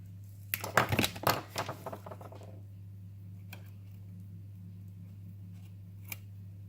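Cutting through an electrical adapter during a conversion job: a brief cluster of crisp snips and clicks near the start, then near silence over a steady low hum with a couple of faint ticks.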